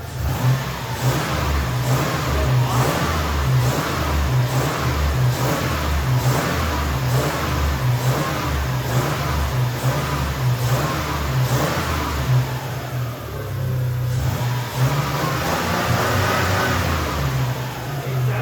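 A 2000 Toyota Tacoma pickup engine runs steadily and loudly close by, its low rumble pulsing rhythmically with occasional revs rising over the idle.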